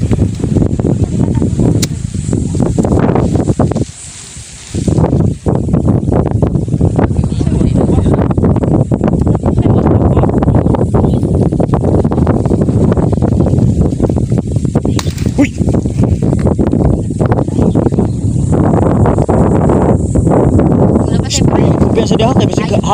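Strong wind roars outdoors near a waterfall, a loud, continuous low buffeting across the whole stretch with a brief lull, while people talk over it.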